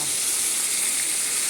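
Fish seasoned with curry leaves fries in coconut oil, giving a steady, even hiss of sizzling oil, close and unbroken throughout.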